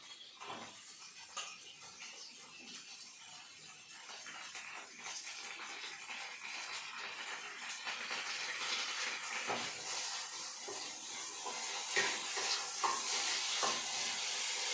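Green chillies frying in a little oil in a pan make a soft, steady sizzle that grows louder over time, with intermittent spatula stirring and light clinks.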